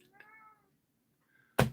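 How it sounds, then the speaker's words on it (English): A cat gives a single drawn-out meow, close and moderately loud, followed after a short pause by a fainter second cry, then a sudden loud thump like a knock or door bang. "I hear a cat crying somewhere."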